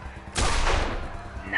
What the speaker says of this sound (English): Screw it, take a shot.